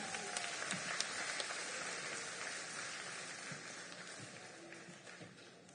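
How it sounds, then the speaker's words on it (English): An audience applauds the winners at a 2023 May Day school celebration, a dense, hissing wash of many clapping hands that stays steady and gradually tapers off. "clap for our winners"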